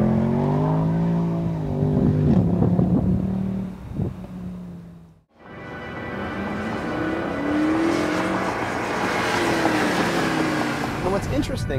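Mercedes C63 Black Series driven hard on a race track, engine roaring loud and close with pitch sweeps through gears, a brief drop-out midway, then strong acceleration with tire and wind noise under a speaking voice.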